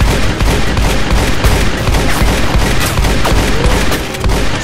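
Nerf blasters firing foam darts during a Nerf war, a dense, continuous rapid popping and clattering that stays loud and steady throughout with no talking.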